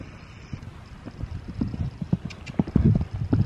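A horse canters nearby, its hoofbeats thudding in a quick, uneven rhythm that grows louder and heavier toward the end, with no talk over them.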